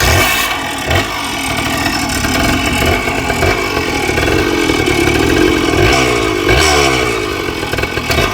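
A 1976 Kawasaki KD125 two-stroke dirt bike in pristine survivor condition runs nearby, its loud buzzing engine idling and blipping with several quick revs rising and falling, with no talking over it.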